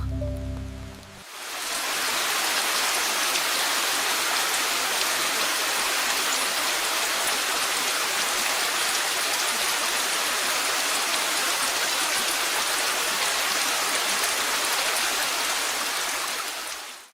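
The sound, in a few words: steady rain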